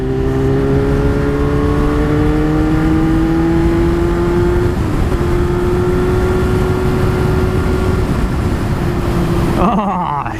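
A motorcycle engine revs in traffic, its steady, loud drone climbing gradually in pitch before it cuts off sharply near the end.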